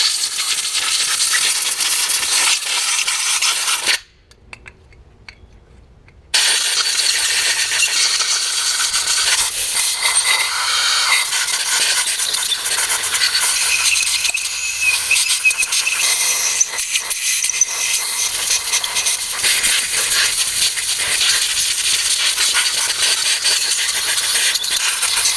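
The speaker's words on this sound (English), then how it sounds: "So I'll blow it off a little compressed air." Compressed air blowing off freshly washed carburetor parts from a 1966 Ford Galaxie 500, a loud, close, broad hiss in long continuous bursts with one brief pause, no speech.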